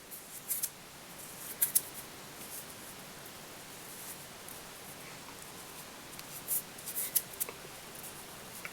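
Scissors trim a small bunch of dark grey fly-tying material, giving a few quick, faint snips at the start and again near the end, mostly alone over quiet room hiss.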